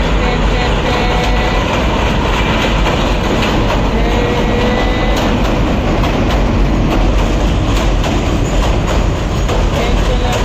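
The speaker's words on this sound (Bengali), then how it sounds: "এই যে ট্রেন চলে আসছে" A train rolls over a bridge, a loud, continuous roar of wheels and rattling cars that fills the whole stretch, with faint voices mixed in.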